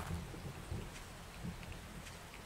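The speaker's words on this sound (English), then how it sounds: "It just looks like a thunderstorm to me." Steady rain falls during a thunderstorm in the video game 7 Days to Die, with soft low rumbles of thunder, quiet and distant, and no one talking.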